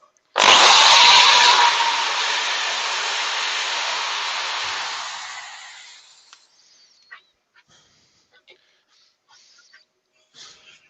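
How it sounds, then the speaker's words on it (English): A power sander buzzes loudly against a decoration, starting abruptly, running for several seconds, then winding down, followed by scattered small clicks and handling knocks. "Let's quickly sand that."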